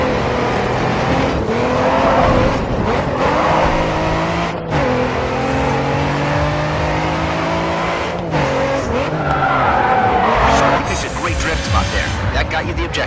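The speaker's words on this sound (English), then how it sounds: "This car will have a tendency to drift through the corners." In the GRID 2 racing game, a race car drifts through corners, its engine roaring and rising in pitch while the tires squeal and skid in repeated bursts, loud and close throughout.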